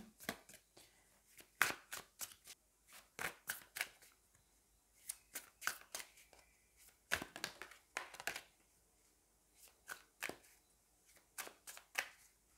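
A deck of Fallen Angels oracle cards being shuffled by hand: a quiet, steady series of sharp card slaps and flicks in uneven rhythm, close by, with no voices.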